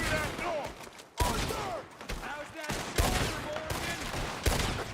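Gunfire from a shootout in Red Dead Redemption 2, with repeated loud, sharp bursts of shots starting at irregular intervals over a continuous din of battle and voices.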